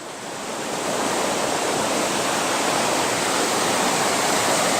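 Broadband surf washing steadily onto a beach, a continuous loud rush of waves that swells slightly in the first second and then holds, with no voices.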